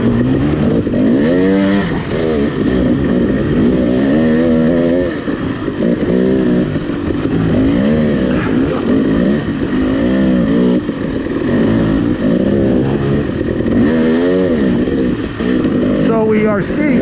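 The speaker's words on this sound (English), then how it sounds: "following Jeremy here on his brand new 2020 KTM XC non-W" A 2020 KTM XC non-W dirt bike rides a forest trail, its engine droning and revving steadily and loudly throughout while someone talks over it.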